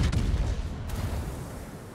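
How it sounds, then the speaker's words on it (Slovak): Naval guns fire in the World of Warships game, a heavy booming volley right at the start that rolls off into a fading rumble. "My to streláme smerom doprava, že St. Louis sa bude točiť."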